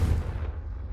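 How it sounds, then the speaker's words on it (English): A Confringo fire spell cast in Hogwarts Legacy, a single deep booming blast with a low rumble that holds steady through the whole second, loud and close with no voices. "a Confringo cast travels a bit farther than that of a spell like Incendio"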